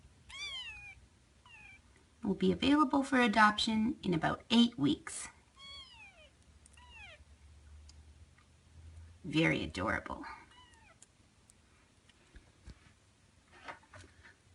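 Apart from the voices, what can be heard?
newborn kittens meowing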